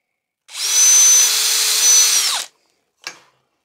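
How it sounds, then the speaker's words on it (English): A power drill runs close and loud for about two seconds, boring through a wooden scrap-timber board, then stops, followed by one short clack. "a drill through the board,"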